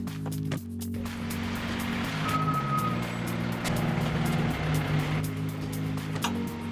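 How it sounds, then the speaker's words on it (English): Bin collection truck from a recycling fleet reversing, its backup alarm beeping in a steady repeating rhythm over the low rumble of an idling diesel engine, fairly close, with no talking. "Our fleet of trucks will collect the bins in your area every fortnight."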